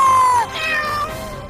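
A cartoon cat gives one clear, loud meow, then trailing, whiny mewling in a drawn-out second cry.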